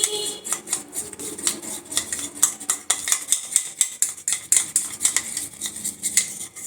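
A spoon scrapes and clinks in a small bowl, mixing rose water, multani mitti, gram flour and milk into a paste; quick, steady, close strokes in an even rhythm with no talking.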